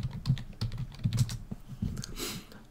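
Quick, light keystrokes tap out a short command on a computer keyboard, close and fairly quiet, in an irregular burst of clicks with no voices.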